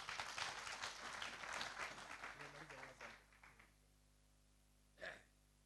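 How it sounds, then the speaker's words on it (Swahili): Audience applause at a community security meeting in Naivasha, a dense burst of many hands clapping that tapers off after about three seconds, followed by a brief voice. "Na hiyo makofi haijatosha chairman"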